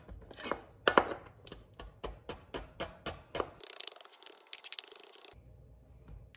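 Sharp knife strokes cut finely through lemon peel on a board, a quick run of about a dozen crisp chopping taps, close and distinct, then a brief rustle.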